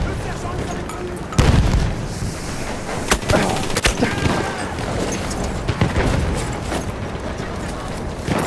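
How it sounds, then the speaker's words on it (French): Chaotic Battlefield 1 combat at Verdun Heights with a grenade explosion: a heavy boom followed by scattered gunfire cracks and thuds, near and loud, under shouted voices. "Attention! Grenade!"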